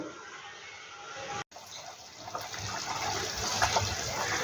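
A pot of potato and paneer curry bubbles on the stove, giving a steady, close watery hiss and burble that cuts out for a moment and then continues slightly louder.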